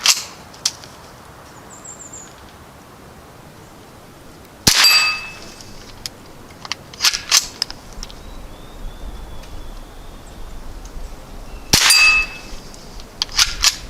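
Ruger 10/22 rifle shots striking a metal target outdoors, several sharp cracks each followed by a ringing clang, spaced irregularly with quiet gaps and faint birds in between.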